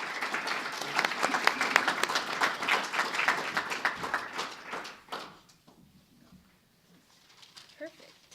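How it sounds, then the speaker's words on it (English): An audience applauds presenters at an academic talk on police violence and social control, a dense burst of clapping for about five seconds that thins out and fades, followed by near-quiet with a few faint sounds. "let's give our presenters a round of applause for this"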